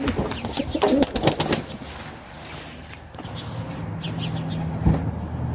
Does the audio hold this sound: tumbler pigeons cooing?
yes